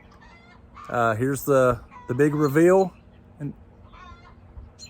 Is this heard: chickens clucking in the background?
yes